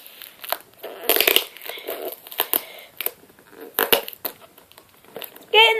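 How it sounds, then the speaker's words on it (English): Packaging ripped and torn off during an unboxing: repeated bursts of crackling, scraping tearing at close range, uneven in rhythm, with a louder tonal squeak near the end. "Ripping all this off, so that's what the noise is."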